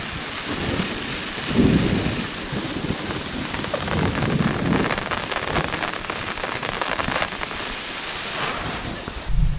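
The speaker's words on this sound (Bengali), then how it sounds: "প্রচুর বৃষ্টি হচ্ছে, প্রচুর।" Heavy rain pours steadily outdoors while low thunder rumbles several times beneath it, a dense continuous wash with no voices.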